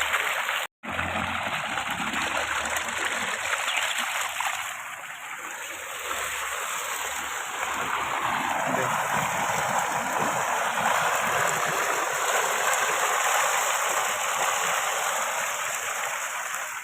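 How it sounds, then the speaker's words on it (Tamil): Irrigation water from a farm pumpset flows steadily through channels to coconut and banana plants, a continuous close rushing trickle with no talk, broken only by a brief dropout near the start. "செடி மரங்களுக்கு தண்ணி போகும்."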